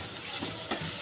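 Onion frying in hot oil in a pot gives a steady, soft sizzle with faint stirring scrapes. It runs alone, with no voices.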